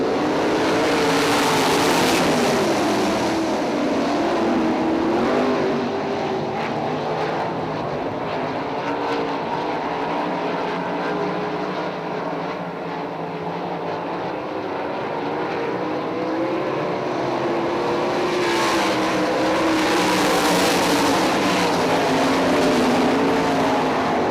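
Loud, roaring sprint race car engines rev hard and accelerate together at a green flag on the dirt track at I-96 Speedway, a continuous thunderous drone that swells near the start and end.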